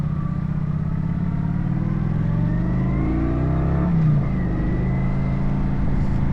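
A Kawasaki VN900 Custom cruiser motorcycle accelerates with a steady, close engine drone that rises in pitch through the gears, then dips at a shift and climbs again, with no talking.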